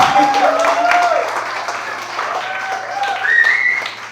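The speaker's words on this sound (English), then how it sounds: "a big round of applause for George, please" Comedy club audience applauding a comic being introduced, a spatter of clapping mixed with whoops and cheering voices, fairly close and lively before fading slightly.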